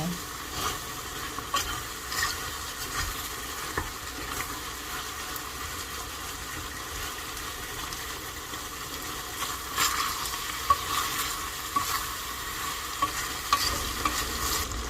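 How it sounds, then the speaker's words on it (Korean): Chicken galbi stir-fried in a pan with vegetables, including enoki mushrooms, gives a steady close sizzle with scraping and stirring throughout, with louder bursts of spatula clatter toward the end. "이제 들어간 야채들이 숨 죽을 때까지 볶아주면 끝이에요."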